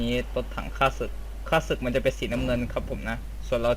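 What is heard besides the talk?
No distinct noise like a dog, phone or traffic.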